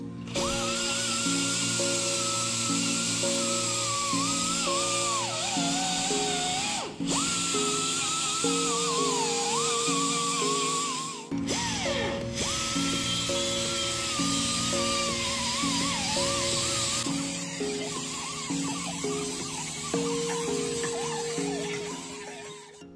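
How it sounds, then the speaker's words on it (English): A Harbor Freight angle grinder fitted with a Scotch-Brite pad strips paint from a rusty vintage Honda ATC 90 ATV gas tank, whining loudly and continuously with fluctuating pitch and a few brief dips, close up. "removing the rest of the paint from the tank with a Scotch-Brite pad on the Harbor Freight angle grinder"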